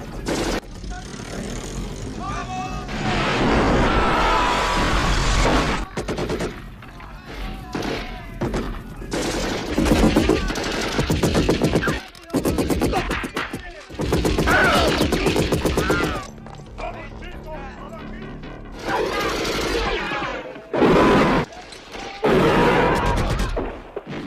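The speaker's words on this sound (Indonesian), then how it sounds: "Namun naasnya gudang tersebut langsung ditembaki dengan rentetan senjata." Rapid automatic gunfire rattles in dense, loud volleys during a film action scene of a warehouse being shot at, with crashes and dramatic noise filling the scene and no talk.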